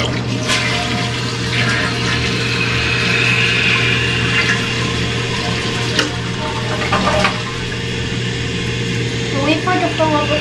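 A Ferguson toilet tank refills with water after a flush, a steady rushing fill running under faint background noise, with a few brief clanks and a short voice near the end.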